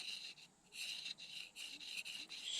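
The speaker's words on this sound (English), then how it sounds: "use a knife to scrape it off" A knife blade scrapes the waxy cuticle from a plant stem in the African bush, giving quiet, close, rhythmic rasping strokes with brief pauses between them.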